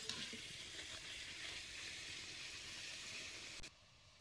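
Puris frying in hot oil in a village kitchen, a soft, continuous sizzle and bubbling hiss that runs steadily, then drops off sharply just before the end.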